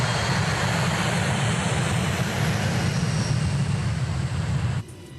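A passenger airplane's engines drone loudly inside the cabin, a steady broadband roar with a low rumble that drops away abruptly near the end.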